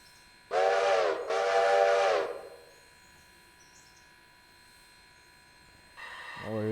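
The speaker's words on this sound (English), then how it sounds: "This is Shift H for the high whistle." A steam locomotive's high whistle in the train game Railroader sounds in two loud sustained blasts with a brief gap between them, then a third starts after several seconds of quiet.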